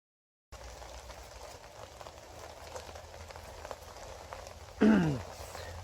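Pouring rain falling on a fall garden bed covered with newspaper or cardboard mulch, a soft continuous patter outdoors, with a brief louder rustle near the end.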